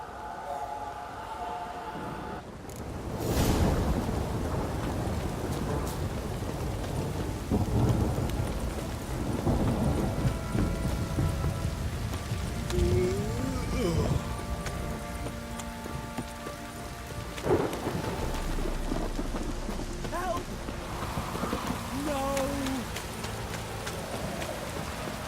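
Steady rain pours throughout in The Witcher 3: Wild Hunt, with a deep rumble of thunder rolling in early, a loud crack midway, and faint game-like tones scattered over the downpour.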